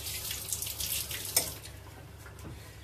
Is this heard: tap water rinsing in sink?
yes